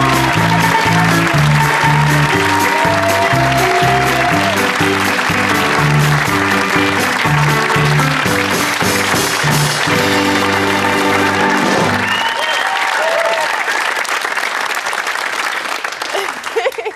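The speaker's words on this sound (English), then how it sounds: "I didn't get a cheer like that." A television studio audience on a talk show cheers and applauds loudly for a pop star's entrance, a dense sustained roar of clapping and whoops that fills the room, with background music under it before the noise thins out.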